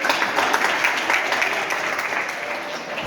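An audience at a Jain religious discourse gathering applauds with loud, dense clapping that holds steady for about three seconds and fades slightly toward the end.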